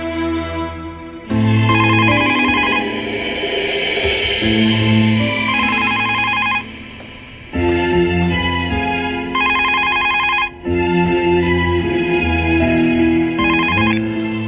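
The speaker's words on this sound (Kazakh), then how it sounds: "Телефонго жооп бербейсизби?" A telephone ringtone plays loudly on its own: a bright, melodic electronic tune in repeated phrases, each burst separated by short gaps.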